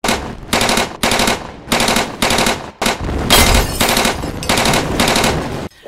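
Machine gun fire for the German invasion of Poland in 1939, loud sustained bursts of rapid automatic shots separated by brief pauses, with no voices.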